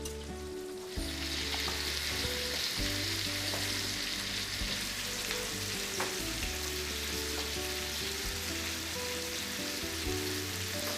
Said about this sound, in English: I'm going to let these saute now for 5 or 6 minutes